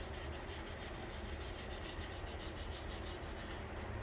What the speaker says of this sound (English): try to get the corner of your sandpaper, which I leave mine a little tucked back a little bit, just so this way there's no pressure.